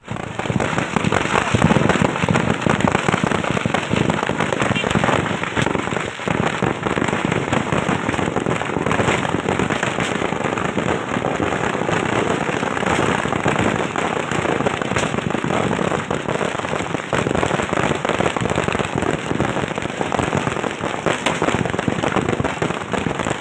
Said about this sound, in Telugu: గోదాంలోని టపాసులు భారీ శబ్దాలతో పేలిపోయాయి